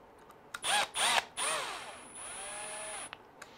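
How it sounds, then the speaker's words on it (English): A power drill whirs in several short bursts, its pitch rising and falling as it drives a screw into an RC car front brace, then a longer steady run before stopping. "if you're using a drill and it has a clutch"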